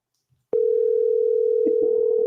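A telephone call rings out on the line as a single loud, steady electronic tone that starts abruptly after a brief quiet and holds, with faint muffled sounds underneath.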